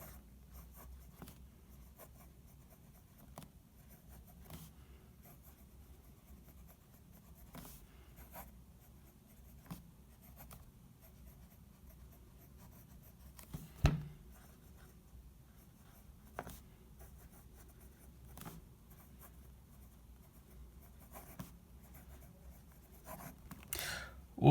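A Jinhao 911 fountain pen writes on Clairefontaine paper, making faint, close scratches and taps in irregular strokes over a quiet background, with one sharper tap partway through.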